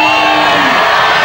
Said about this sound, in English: the crowd are getting right behind him now. They were a little hushed before the start, but now they're roaring on his every move